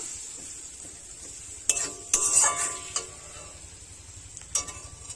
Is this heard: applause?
no